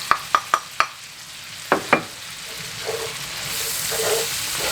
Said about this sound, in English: Try to mix all this stuff up together. So this is going to be our little roux.